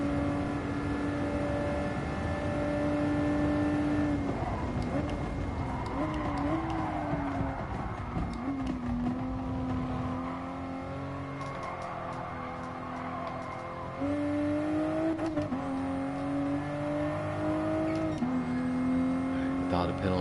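Race car in a video game braking hard and turning into a corner, engine note droning and dropping in pitch with tyre squeal, while someone talks over it throughout.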